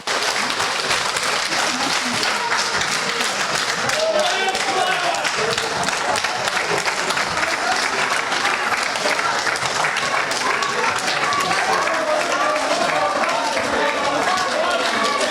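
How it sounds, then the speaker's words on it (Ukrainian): Sustained applause from young people filling a hall, dense steady clapping that stays loud and even throughout with a murmur of voices underneath. "присутня молодь їх супроводжувала оплесками"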